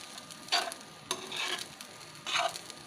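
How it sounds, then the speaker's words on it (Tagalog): Fried milkfish and sweet potato leaves are stirred in a hot pan, giving three distinct scraping sweeps over a soft, steady sizzle, close and with no voices. "atin pong haluin"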